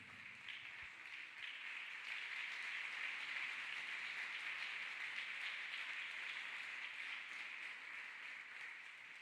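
Congregation clapping hands in church, a continuous, even wash of many hands heard from a distance and quite faint, with no voices on top.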